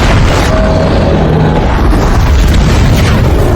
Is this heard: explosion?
yes